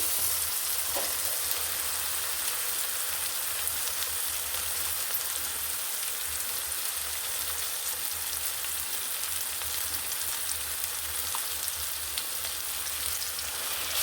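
Steady, even sizzling of ground masala frying in a hot pan, continuous throughout with a faint tap or two, no voices.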